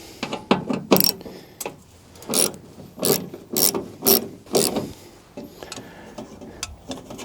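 A hand ratchet works T30 Torx bolts loose on a Jeep Wrangler wiper motor, giving loud, close clicking bursts in a quick series of strokes, each a rapid string of pawl ticks.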